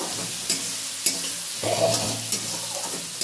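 Onion, tomato and green chili frying for a boal fish curry, a continuous close sizzle with occasional spatula taps and stirring scrapes against the pan.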